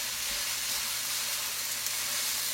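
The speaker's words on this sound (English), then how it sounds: "You hear it sizzle?" Beef sizzles in a hot greased pan on medium-high heat, giving a steady, fairly close crackling hiss with no talk over it.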